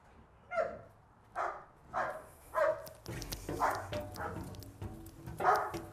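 A police dog barks in a loud, close series of about six sharp barks spaced under a second apart, with people talking over the later part.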